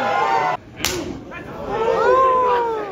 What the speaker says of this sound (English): they took us back out to watch more slap fights